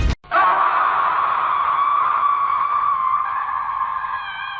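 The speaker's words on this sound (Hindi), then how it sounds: "पिशाचिनी की भयानक चीख से पूरा जंगल गूंज उठा।" A female demon lets out a single long, shrill scream that holds steady for several seconds and slowly fades, echoing through a burning forest.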